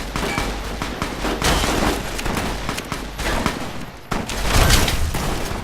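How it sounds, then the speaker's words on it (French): Sustained gunfire from the video game Fallout: New Vegas, a dense fusillade of rapid overlapping shots with booming low end, loud and continuous with a brief lull before another heavy burst. "Regardez où on tire."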